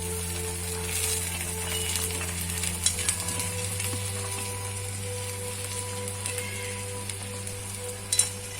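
Malabar spinach leaves and stems fry in a seasoned pan, giving a steady, soft sizzle and crackle with occasional stirring scrapes under a constant low background hum.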